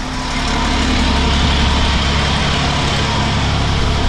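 A neglected 1000-horsepower Cummins diesel race truck idles steadily with a low, even rumble and constant mechanical drone, close by and unchanging.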